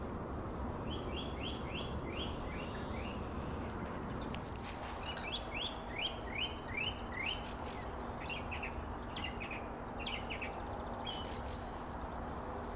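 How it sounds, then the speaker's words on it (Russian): A nightingale sings in repeated rapid phrases of bright chirps and whistles, fairly faint and a little distant, over a steady low background hum with no talking. "Это соловей."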